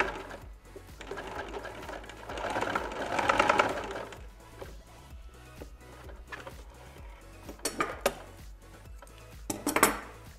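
Sewing machine running a straight stitch on a swimsuit bra cup, close and steady, swelling to a louder whirring run and then breaking into shorter bursts of rapid needle clatter with brief pauses between them.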